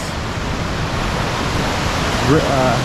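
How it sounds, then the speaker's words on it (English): Creek beside a forest hiking trail near Snoqualmie Pass on the Franklin Falls Trail, a steady broadband rush of flowing water heard close, with brief muffled sounds near the end. "creek or stream or river, depending on your definition, right beside us here"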